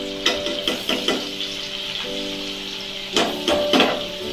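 Butter sizzles in hot oil in a pan for pav bhaji, a steady close frying hiss punctuated by sharp metallic taps and scrapes of a spatula in two brief clusters.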